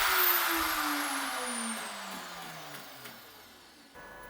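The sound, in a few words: CNC router spindle motor running at 25,000 RPM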